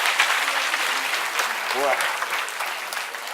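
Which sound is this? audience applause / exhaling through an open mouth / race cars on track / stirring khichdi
audience applause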